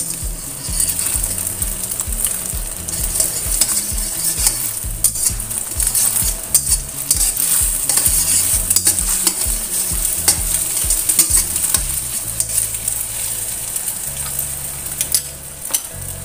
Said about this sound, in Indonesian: Ini goreng acak aja telurnya.